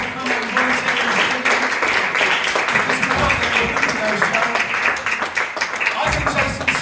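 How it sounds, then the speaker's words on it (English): Lively, sustained applause from a live comedy hypnosis show audience at the Faversham Fringe, dense clapping with a few brief dips and a voice faintly underneath. "give these guys a massive round of applause for coming and volunteering"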